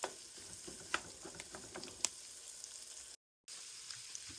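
Butter, onion and garlic frying in a pan, a soft, steady sizzle with occasional pops and light stirring scrapes, broken by a brief gap of silence.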